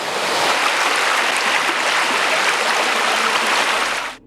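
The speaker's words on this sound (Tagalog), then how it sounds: "Sadyang malakas ang ragasan ng tubig sa ilog na ito dahil mataas ang pinagagalingan ng tubig mula pa doon sa bundok" A fast, powerful river fed from high up on Banakaw mountain rushes loudly and steadily with a dense, unbroken roar close by, fading out at the very end.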